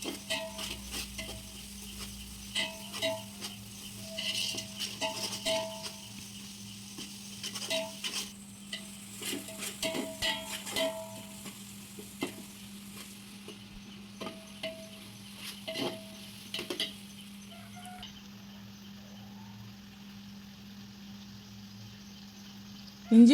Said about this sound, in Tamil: கொத்தமல்லி புதினா சேர்த்துக்கணும், நல்லா வதக்கிக்கணும்.